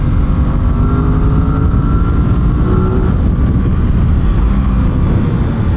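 Aprilia RS660 motorcycle, a 2021 model, on a riding run: a loud, close engine note that holds high and steady with a slight rise in pitch, wind roar over the top, no voices.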